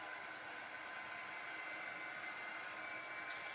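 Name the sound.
dryer drying a craft transfer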